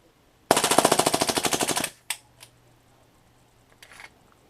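A PFAM98 air rifle running on nitrogen fires a rapid burst of evenly spaced shots for over a second, loud and close, followed by a few sharp mechanical clicks and a faint rattle, with no voices.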